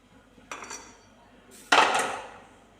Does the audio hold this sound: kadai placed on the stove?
yes